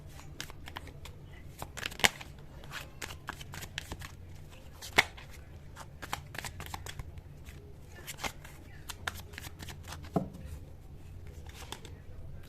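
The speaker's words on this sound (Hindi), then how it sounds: "मैं यहाँ से कार्ड आपके लिए निकाल रहा हूँ" Tarot cards handled and drawn from a deck, giving soft repeated shuffling rustles and sharper card snaps, with occasional clear flicks standing out at close range in a quiet room.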